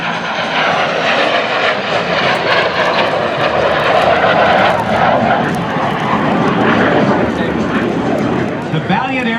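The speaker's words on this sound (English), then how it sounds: "Skyhawk 2, this time in the carrier configuration pass." A-4 Skyhawk jet making a carrier-configuration pass at the NAS Jax airshow, a loud, sustained engine roar that holds for the whole stretch while a commentator talks over it.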